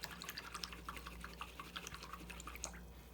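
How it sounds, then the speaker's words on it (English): A paintbrush loaded with acrylic paint is rinsed in a water container, giving quiet, rapid dripping and swishing splashes in an irregular patter, faint and close by. "now I'm gonna wash my brush out"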